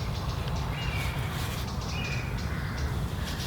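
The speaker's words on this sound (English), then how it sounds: "That's a European buzzard screeching in the background." A European buzzard gives two faint, thin screeching calls far in the background, partly masked by steady outdoor noise and rumble.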